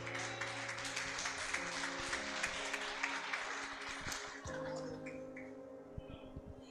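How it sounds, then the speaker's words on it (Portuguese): Church congregation applauding during a worship service, a steady dense wash of clapping that thins slightly toward the end, with sustained organ-like tones underneath. "palmas louvam ao Senhor."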